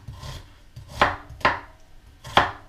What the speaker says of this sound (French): Donc là je vais émincer très finement mes oignons